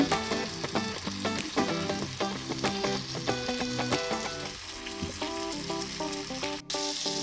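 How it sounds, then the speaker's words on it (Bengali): Chicken pieces for tandoori chicken frying two at a time in a pan, a close, steady sizzle with crackling spatter and light stirring, while faint music plays underneath throughout. "দুটো দুটো করে ভেজে নেব"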